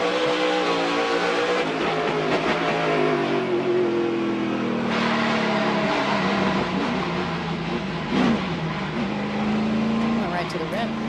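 Onboard race car engine at Stafford Motor Speedway, a steady loud drone with shifting revs and pitch changes throughout, heard under continuous commentary talk.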